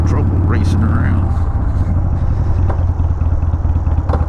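Harley-Davidson Sportster 883 Hugger with a solid-mounted engine rides along on a test run after repair, its steady low engine drone loud and continuous throughout with wind rush.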